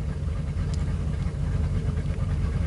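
A 1999 Ford F250 with the 5.4L engine idles roughly, giving a steady, close, low rumble that holds even throughout with no voices over it.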